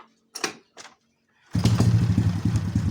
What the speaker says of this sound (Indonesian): mesin kita hidupkan ya